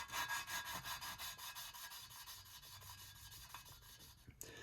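A metal engine valve is spun back and forth against its seat with gritty grinding compound, giving a steady rasping scrape in quick rhythmic strokes that fade slightly, close and alone.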